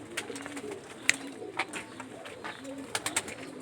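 Sialkoti pigeon chicks, rooftop-bred, cooing softly in repeated low murmurs, with a few sharp clicks and rustles between the coos.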